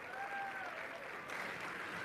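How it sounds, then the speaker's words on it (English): Applause from an audience at a school performance event, a steady, fairly faint wash of clapping heard from a distance, with a thin sustained tone running through it. "A big round of applause"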